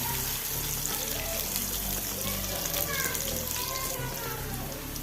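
Bitter gourd curry being stirred in a pan, with a steady sizzling, watery hiss and soft scraping throughout, moderately loud and continuous.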